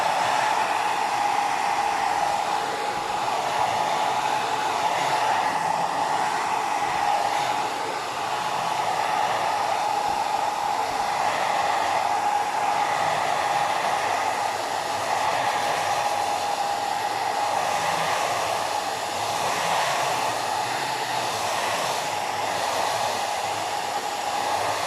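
A hair dryer runs steadily and loudly at close range for the full stretch while drying a freshly painted textured bottle, with one brief dip in airflow partway through and no talking.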